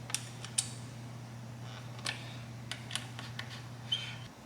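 Fasteners are removed from the fairing of a 2018 Honda CBR 600RR. Faint clicks and small creaks come and go over a low steady hum, close and quiet.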